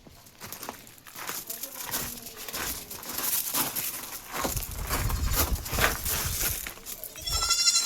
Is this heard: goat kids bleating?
yes